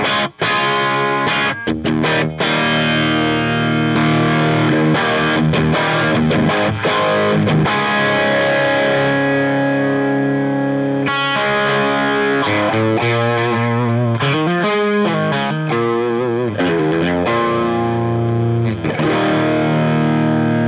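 Electric guitar through a Pak amp, boosted with gain pedals: dense distorted chords and riffs ring out continuously, loud and full, with no talking over them.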